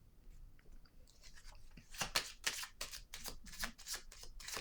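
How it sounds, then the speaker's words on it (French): Tarot cards slide and slap softly as one card is laid on top of another, a quiet papery shuffle that builds into a few crisp flicks. "Je vais déposer une autre carte dessus."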